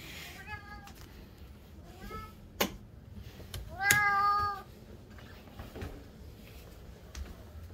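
A pet cat meows several times indoors at home, the calls short and rising, close and fairly clear over a low household hum, with one longer, louder meow near the middle and a few soft knocks between.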